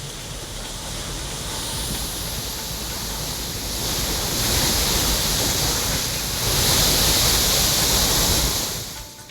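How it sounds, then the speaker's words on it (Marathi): A steady, loud hiss of rushing water spraying thirty to forty feet high from a burst water pipeline, swelling in strength partway through and holding at full force before easing off. "पाण्याचे तीस ते चाळीस फूट उंच फवारे पाहायला मिळाले"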